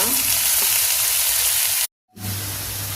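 Chopped tomato hits hot ghee with sautéed thuthuvalai leaves, giving a loud, steady frying sizzle that cuts out briefly, then returns with a low bubbling hiss.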